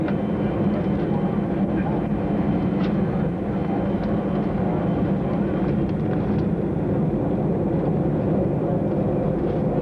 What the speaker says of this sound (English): Just another typical takeoff on a rather bumpy runway